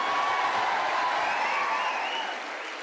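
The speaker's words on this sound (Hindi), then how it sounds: "तालियां हो जाए एक बार जोरदार।" Audience applause at a CMA student fest: a dense, continuous patter of many hands clapping fills the room, holding steady before easing off slightly near the end.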